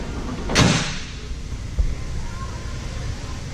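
A 2012 Toyota Tacoma tailgate with a factory bed liner swinging open, one broad rushing clunk early on, then a small knock and quiet outdoor background.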